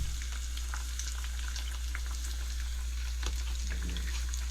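Eggplant slices fry in a pan at an off-grid cooking setup in Milolii, Hawaii, giving a steady, continuous sizzle with light crackles throughout and a brief louder pop near the end, no voices.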